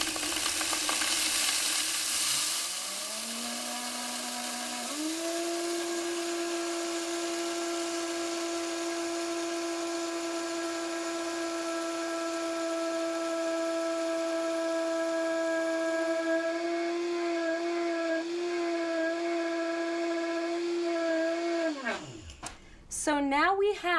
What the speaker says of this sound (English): I'll grind the wheat berries for about a minute.